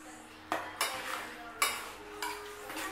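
Spoon scraping and clanking against a pan while stirring spicy mussel sisig with pork liver, several sharp utensil knocks over a soft sizzling bed, close and moderately loud.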